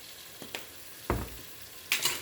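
Soup ingredients with sweet smoked paprika cooking down in a pot, a soft steady sizzle under a few scrapes and stirs of a utensil against the pot.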